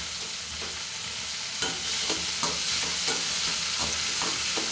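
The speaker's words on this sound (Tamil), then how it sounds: "தக்காளி நல்லா வதங்கணும்." Tomatoes fry in a pan while being stirred, a constant sizzle broken by regular scraping strokes of the spoon, close and with no voices.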